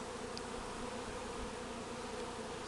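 A caught swarm of honeybees hums in a steady, dense drone, close and continuous, with no voices present.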